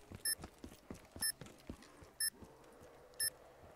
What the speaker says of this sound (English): I don't know what this horrendous beeping sound is either.